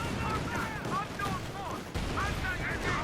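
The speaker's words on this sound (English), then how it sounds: "He's going to call in artillery here." Artillery and gunfire in the Company of Heroes 2 video game, a dense rumbling battle bed with scattered booms throughout, while a commentator talks over it.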